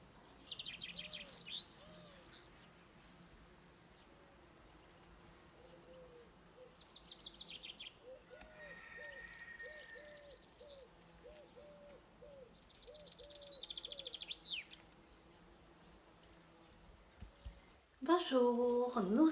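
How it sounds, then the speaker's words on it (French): A small European serin sings in bursts of high, thin, jingling twitters, with quieter low hoots and cooing from other birds beneath and a sudden louder rustle at the end. "Le petit oiseau qui chante, c'est un serin"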